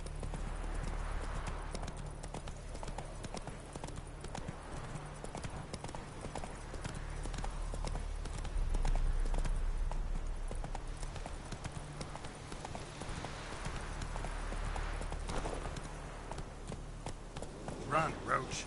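Roach, a horse in The Witcher 3, gallops with a rapid, steady clip-clop of hooves across the whole stretch, with ambient game sound underneath and a voice speaking briefly over it.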